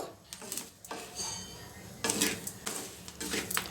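Shelled peanuts dry-roasting in a pan over a high flame, with repeated sharp, clattering pops and ticks scattered through the roasting, fairly close and mostly alone.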